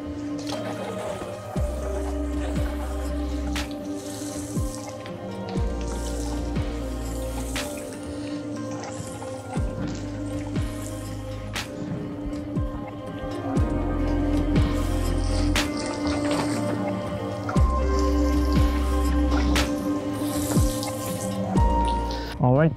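Water trickles and drips steadily onto garden beds of spinach and radishes in an Ontario vegetable garden, a soft continuous splashing with scattered drops and occasional squishy sounds, fairly quiet and close.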